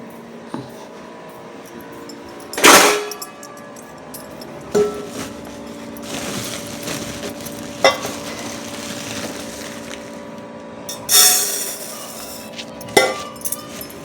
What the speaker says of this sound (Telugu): బియ్యం కడిగి పెడతాను.